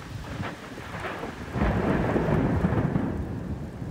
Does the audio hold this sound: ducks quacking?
no